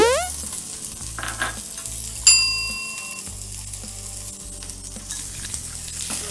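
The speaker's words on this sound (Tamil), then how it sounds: "அதுக்கப்புறமா நம்ம நறுக்கி வச்சுருந்த ஒரு வெங்காயத்தை போட்டுக்கோங்க." Chopped onion with cumin seeds frying in hot oil for a mini samosa filling, a steady close sizzle with stirring scrapes and a brief metallic clink partway through.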